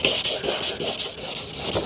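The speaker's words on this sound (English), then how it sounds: "it won't get really smooth until you start going up in your sandpaper" Sandpaper rubs back and forth across a foggy car headlight lens in steady, evenly spaced strokes, loud and close with no voices.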